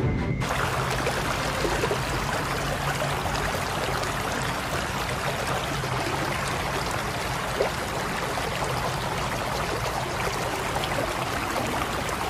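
Steady water pours and splashes continuously, a constant rushing trickle close by with no talk.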